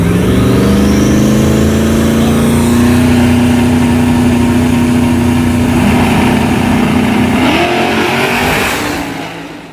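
Supercharged V6 GAPS Integra revving hard at a Dallas street racing track, a loud, close engine note climbing steadily in pitch, then dropping off sharply near the end as the throttle lifts.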